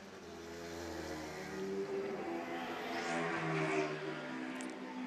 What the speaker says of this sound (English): it's mainly the noise from the lead car, isn't it? It sounds quite flat.